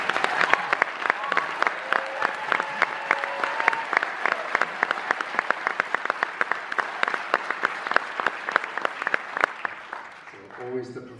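An audience at the Coolidge Corner theatre bursts into sustained, dense applause welcoming Werner Herzog at the 2018 Coolidge Award evening, steady and loud throughout before tapering off near the end.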